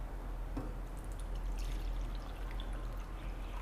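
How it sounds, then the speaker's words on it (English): Water is poured out of a blender jar in a kitchen, a faint, soft trickling stream over low background hum with no talking. "Now I'll remove the water from the jar."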